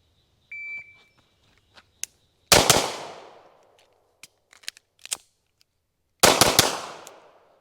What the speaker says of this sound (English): I went like 3 shots right there